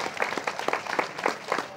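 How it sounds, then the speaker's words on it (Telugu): An audience at a spiritual gathering breaks into brisk, dense applause, many hands clapping together close by for a short burst. "గట్టిగా చప్పట్లు కొట్టాలి"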